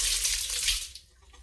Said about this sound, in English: I'm going to give everything a quick rinse just to sort of wash off any of that excess salt that's still on there